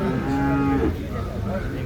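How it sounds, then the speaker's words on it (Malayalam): Cattle and calves at a crowded festival-time market in Chattiparamba: one close, loud drawn-out moo for about a second, followed by fainter lowing against a background of market bustle. "ഇത് കാളക്കുട്ടികളാ അതോ മൂരിക്കുട്ടികളാ?"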